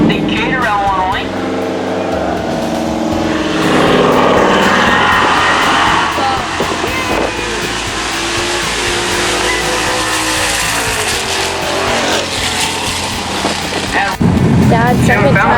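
A Camaro launching at a bracket drag race, engines roaring loud and close with tire squeal and revving that swells and fades, under a track announcer's running commentary.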